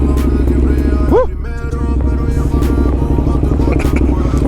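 A motorcycle built for city streets idles with a loud, steady rumble close by, then gives one quick sharp rev that rises and falls before settling back to a throbbing idle.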